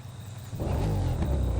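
A car engine in the racing game The Crew 2 bursts into a loud, deep rev after a brief low idle, the throaty roar holding strong and close to the end.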